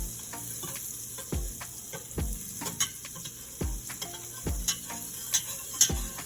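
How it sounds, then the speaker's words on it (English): Flour is whisked into melted butter in a pot on the stove for a soup roux, producing a rhythmic series of soft taps and clicks over a faint background hiss. "Okay, you can leave it on the stove and just use the whisk."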